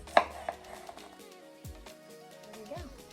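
Chopping tomatoes and other vegetables on a cutting board for cheeseburger lettuce wraps: a few sharp knife knocks near the start, scattered smaller taps afterward, with a voice talking over them.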